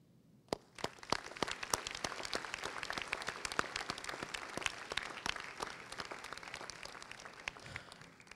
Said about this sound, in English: Please join me in acknowledging with your applause your teachers, parents, friends, and family members assembled here to witness your graduation.